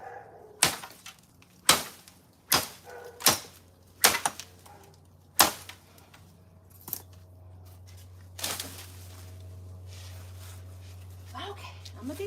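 Branches of a tree being cut by hand in a Zone 10b home garden, a series of sharp snapping cuts about once a second, loud and close, ending in a rustle as a branch falls, then a steady low hum underneath.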